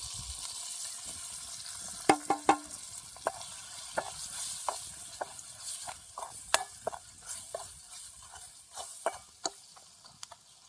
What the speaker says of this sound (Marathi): अजून हे इथं मिरची पावडर ते पण घेणार आहे तो जास्त नाही टाकणार थोडंच टाकणार आहे बघू आता मसाले टाकून घेते